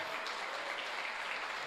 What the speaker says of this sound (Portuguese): Só quem crê dá glória a Deus e aplaude o Senhor bem forte